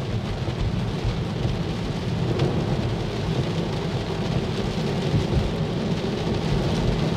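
Steady heavy rain drums on a Tesla Model 3 during a drive, with rumbling thunder rolling underneath, continuous and close with no talking.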